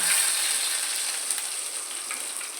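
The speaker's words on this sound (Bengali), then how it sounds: "তেল আর লঙ্কা ভালো মতো ভাজার পরে আমি এই সেদ্ধ করা জল শুদ্ধ মটরশুঁটি আর আলুটা দিয়ে দিলাম" Boiled green peas and potato, tipped in with their cooking water, hit hot oil that has fried chili. A steady, close hissing sizzle runs throughout and eases slightly toward the end.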